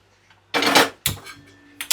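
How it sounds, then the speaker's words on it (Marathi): A flat iron tava griddle set down on a gas stove burner gives a couple of sharp metallic clanks and scrapes, with a final lighter knock, close up in a home kitchen. "तर आता आपण गॅसवर तवा ठेवतोय।"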